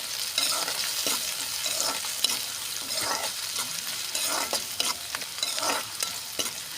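Shallots sautéing with two dried red chilies and a sprig of curry leaves for a mushroom gravy: a close, steady sizzle broken by repeated scraping strokes of a spoon stirring the pan, with no talk.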